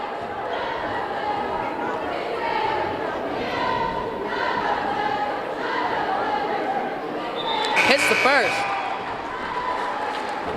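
A packed gym crowd at a 2022 boys high school basketball game keeps up steady chatter and cheering, swelling in a brief roar near the end, while an announcer talks over it.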